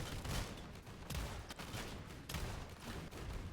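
A firework gun firing in the video game Sulfur, a rapid run of sharp bursting shots that repeats in clustered volleys, loud and with no talk over it.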